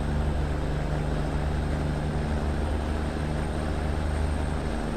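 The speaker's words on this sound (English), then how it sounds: "I love the old whistle of that turbo." A Peterbilt 379X truck in American Truck Simulator runs with a steady engine drone and a thin, sustained high turbo whistle held constant over the low rumble, no voices.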